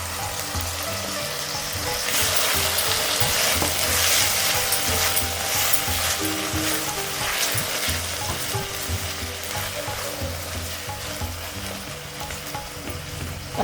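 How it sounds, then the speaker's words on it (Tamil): Chopped onion and tomato sautéing together in a pan for Karnataka-style poori sagu: a loud, steady sizzle and hiss runs throughout, with soft stirring scrapes underneath and no talking. "தக்காளி வெங்காயம் நல்லா சேர்ந்து வதங்கி தொக்கு மாதிரி வரணும்"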